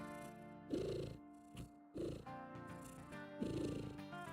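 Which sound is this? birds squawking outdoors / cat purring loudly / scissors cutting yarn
cat purring loudly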